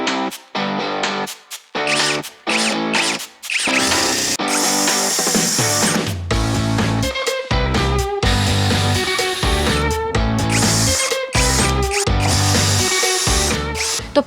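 A power drill whines in repeated bursts as it backs screws out of interior panels inside a van being stripped for a camper conversion, loud and close, with short pauses between runs and no talking.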